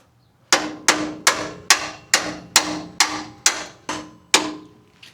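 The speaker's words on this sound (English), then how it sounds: "grab my hammer and just kind of pound it back in there" Steel hammer blows drive a bolt back into a suspension end link on a Lexus GX460, ten sharp ringing strikes in a steady, close rhythm with a short decay after each and no talk.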